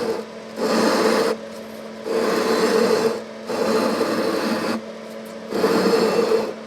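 Heavy flat file drawn back and forth across the frets of a Breedlove acoustic guitar during a fret level, four steady rasping strokes with brief pauses between, close and loud.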